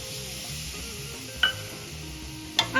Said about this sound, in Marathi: दूध छान मिक्स करून घ्यायचं